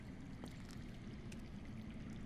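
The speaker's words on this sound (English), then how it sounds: "I hear water. From underground." Water flows underground in a video game, heard as a faint, steady gurgling rush with no break, low and continuous throughout.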